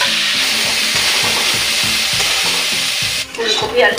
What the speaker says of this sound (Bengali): ফুলকপি আলু আমার ভাজা হয়ে গেছে নারকেল দিয়ে